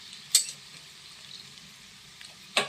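Crushed pepper and asafoetida tempering for pongal sizzles in hot oil as a quiet hiss, broken by two sharp crackling bursts near the start and the end.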